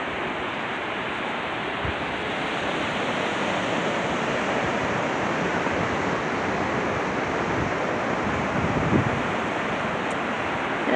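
Ocean waves breaking on a beach make a continuous, broad roaring wash that holds steady throughout, with no distinct individual crashes and no voices.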